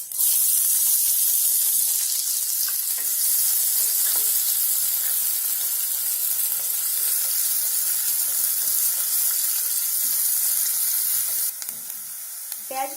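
Onions fry in a pan for aloo chana chaat, with a loud, steady sizzle and hiss running throughout and occasional soft stirring scrapes.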